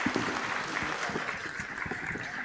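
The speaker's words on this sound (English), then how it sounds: "Can I request our dear audience to have a big round of applause for our distinguished" Audience applause for conference panelists at a trade and economic diplomacy session, a dense, steady wash of clapping from a sizeable crowd that runs unbroken throughout at moderate loudness.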